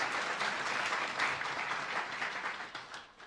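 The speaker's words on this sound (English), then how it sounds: "a round of applause for Ryan, our superstar meteorologist" An audience at a student news awards ceremony gives steady, fairly close applause for a meteorologist, dense clapping that tapers off toward the end.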